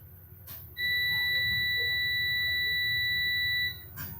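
A steady electronic beep tone sounds for about three seconds without a break, clear over a low background hum, with no speech.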